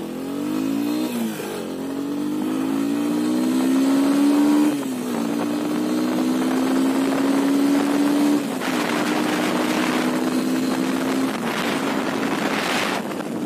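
A motorcycle, either a Bajaj NS200 or a Yamaha FZ25, accelerates hard through several gears on a road, its engine whine rising and dropping at each shift, close and loud with wind buffeting the microphone.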